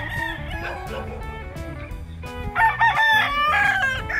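Pure Sweater gamefowl roosters, Raptor Sweater line, crowing at a breeding farm in Tagaytay City, with one drawn-out crow followed by a louder, nearer crow from another bird, over background farm noise.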